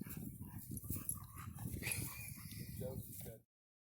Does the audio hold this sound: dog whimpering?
yes